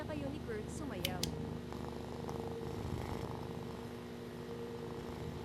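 A cat purrs in a house-cleaning horror video game, a steady soft rumbling that continues throughout, mixed with faint game sounds and a few brief tones.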